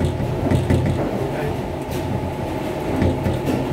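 The small capsule tram inside the Gateway Arch rumbles and rattles on its track, a continuous close mechanical drone with faint clanks throughout.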